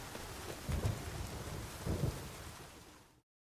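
Steady rain hisses across the whole clip in The Witcher 3: Wild Hunt, with two low rumbling swells like distant thunder, then cuts off abruptly.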